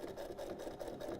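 A sewing machine top stitches down the zipper fly of a pair of jeans, making a close, steady, fast mechanical whir with an even stitching pulse throughout.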